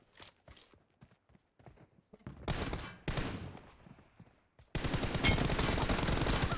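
Gunfire in the mobile game PUBG Mobile with an M4 rifle, starting as scattered single shots and short bursts, then sustained automatic fire in loud rapid volleys, close and without talk.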